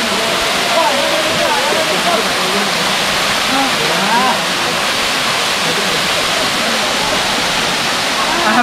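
Mahadev waterfall in the Satpuda hills near Jalgaon Jamod, Buldhana, its water pouring down in a loud, unbroken roar, with a voice talking faintly under the rush.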